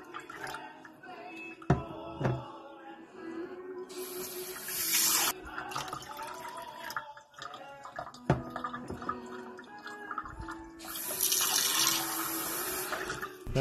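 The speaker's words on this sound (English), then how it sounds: "if we cut the amount of water we pour into the cup to around half" Water is poured into a McDonald's cup in several separate bursts of splashing and trickling, close and moderately quiet, with short pauses and a few small knocks between pours.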